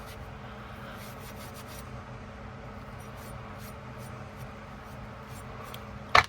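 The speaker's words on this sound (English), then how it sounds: "I'm gonna wipe it down a little bit." A cloth rubs and wipes steadily over a metal part of a Hakim rifle being cleaned, a soft continuous scrubbing close by, ending in a brief sharp clack.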